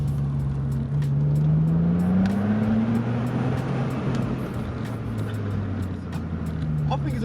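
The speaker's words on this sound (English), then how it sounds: "when the turbo kicks in, it absolutely tears. It's got that tearing noise." A Vauxhall Vectra VXR's turbocharged engine accelerates, its droning tone climbing steadily in pitch, then easing and rising again, heard fairly close with a rough tearing edge under road noise.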